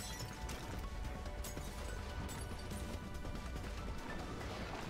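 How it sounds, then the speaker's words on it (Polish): Explosions crash through a Geometry Dash cutscene as a tornado hits, a loud dense wall of smashing and crackling noise with repeated sharp bursts layered throughout. "Jaka cutscenka, wszystko wybucha."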